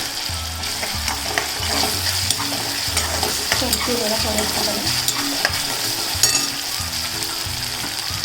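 Tomato and masala frying in a pan for Maharashtrian vangyache bharit, a loud, steady sizzle with frequent stirring scrapes and clatters throughout.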